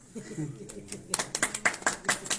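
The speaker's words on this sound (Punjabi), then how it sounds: "ਤਾੜੀਆਂ ਵੱਜ ਰਹੀਆਂ ਸਾਡੇ ਆਲੇ ਦੁਆਲੇ" Applause from a crowd gathered around a Punjabi speaker at a farmers' gathering, a burst of clapping that swells after a quiet start and carries on in uneven waves, moderately loud and close.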